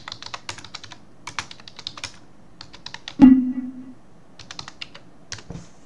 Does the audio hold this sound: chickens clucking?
no